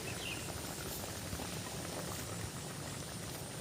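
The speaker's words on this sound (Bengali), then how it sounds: "ঝোল ফুটছে" A crab curry broth with kulekhara greens boiling in a pot, a faint, steady bubbling and hiss that stays even from start to end, close by, with no talking.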